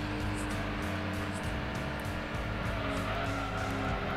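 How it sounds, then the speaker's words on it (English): A Daihatsu one-cylinder, hydrogen-fuelled car in Gran Turismo 2 runs flat out through a corner, a steady, buzzing engine drone that holds at an even loudness throughout. "listen to that ferocious one-cylinder engine running on hydrogen"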